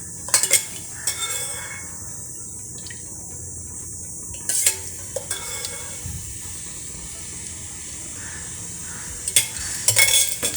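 Mustard seeds and urad dal tempering in hot oil in a kadai, with a soft continuous sizzle and a few sharp clinks of a spoon against the pan, near and with no voices.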